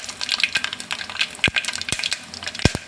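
Cashews sizzle in hot oil in a pan, a light crackling hiss broken by a few sharp clicks and stirring scrapes, close and alone without talk.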